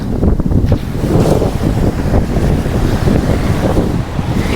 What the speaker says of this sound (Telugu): ఇది అనమాట బీచ్.